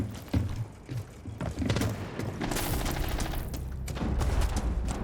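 Bursts of Rainbow Six Siege gunfire crack out in quick clusters, rapid automatic shots with thuds and booms mixed in, getting denser and louder toward the end.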